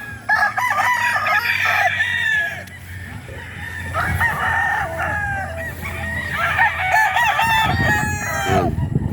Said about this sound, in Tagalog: kitang-kita na ang ating mga alagang manok.